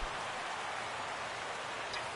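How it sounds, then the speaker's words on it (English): Rain falls steadily in the MLB The Show 17 baseball video game, a faint, even hiss of drops with no break across the short stretch. "Rain falling here"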